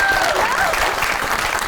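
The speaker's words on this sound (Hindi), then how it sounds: "ताली होनी चाहिए।" An audience claps in a short, dense burst of applause during a light-hearted talk show, steady throughout with a voice briefly audible over it.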